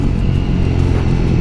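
A motorcycle engine held at full throttle, a loud, steady, dense rumble close to the bike with no break or talk.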